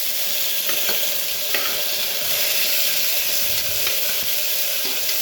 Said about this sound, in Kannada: ವಾಶ್ ಮಾಡಿ ಕಟ್ ಮಾಡಿ ಇಟ್ಕೊಂಡಿದ್ದೀನಿ ಮೆಂತ್ಯ ಸೊಪ್ಪನ್ನ ಹಾಕ್ತಾಯಿದ್ದೀನಿ.